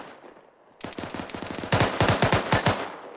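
Gunfire during infantry company field training: a quiet start, then rapid bursts of shots that grow louder and sharper, closely spaced, with no speech.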